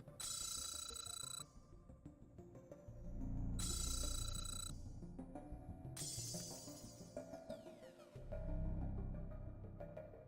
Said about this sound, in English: Telephone tower pings.